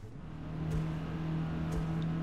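An Alfa Romeo 4C sports car pulls away on a Nürburgring track lap, its engine note rising steadily as it accelerates, close and continuous with no talk.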